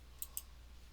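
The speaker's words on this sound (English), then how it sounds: "Let me right click." A computer mouse clicks twice in quick succession while right-clicking on a desktop, giving two faint, crisp ticks over quiet room hiss with no voice.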